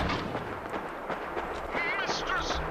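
Rapid bursts of gunfire and explosions crackle through a Fallout 4 battle, a dense continuous barrage of sharp cracks and booms layered with a voice talking over the noise.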